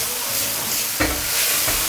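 Beef strips stir-fried with a poured-in sauce in a wok over the highest heat, giving a steady loud sizzle with scraping stir strokes, one sharp clatter midway.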